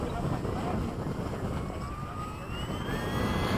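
A Hobby King 70mm 6s Skysword RC jet doing a touch and go in crosswind, its ducted-fan whine rising and sweeping past in a steady drone, heavily mixed with wind buffeting on the microphone.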